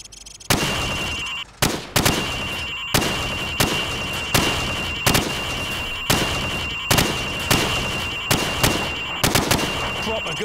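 Rifle fire in Call of Duty Modern Warfare at pop-up targets on a range: loud, evenly spaced single shots ring out one after another, about a dozen close sharp cracks with a steady tone humming underneath.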